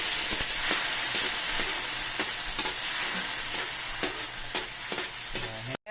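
Pork meatballs and pineapple sauté in a hot pan for sweet and sour pork, a loud continuous sizzle broken by regular spatula scrapes and clacks, close and without voices.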